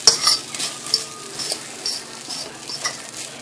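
Rice being stirred in a frying pan during corned beef cooking, a steady sizzle with repeated scraping strokes of a utensil against the pan, close and fairly loud, with no talk.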